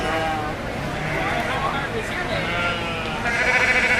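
Yearling ewes bleat at an open sheep show, their wavering calls rising through a busy hall of crowd chatter and an announcer's voice, with a louder bleat near the end.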